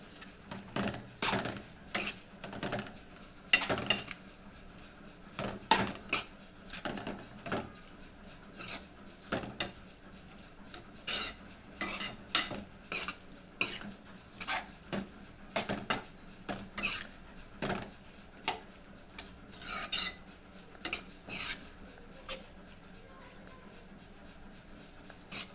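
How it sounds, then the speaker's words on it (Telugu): Turmeric being mixed into a prawn fry with a small spoon, heard as repeated scraping and clinking of the spoon against the pan in irregular bursts across a quiet background. "బాగా కలుపుదామండి."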